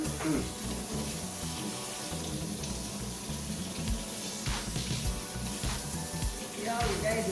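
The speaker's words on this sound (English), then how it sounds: "let me rinse my hands off" Tap water runs steadily into a sink as hands are rinsed, a continuous close splashing hiss with faint background voices.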